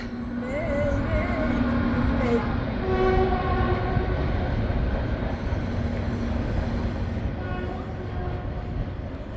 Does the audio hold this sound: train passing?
yes